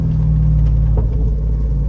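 A Jeep Rubicon 392 V8 with a fresh tune rumbles loud and close, a steady deep exhaust drone with no sharp pops or crackles.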